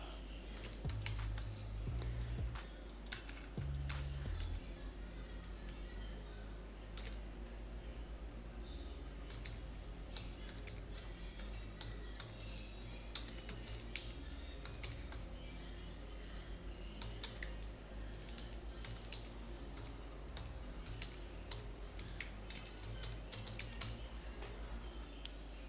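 Typing on a computer keyboard while filling in a Microsoft Word template: faint, quiet clicks in irregular bursts with a couple of louder key taps early on, no speech.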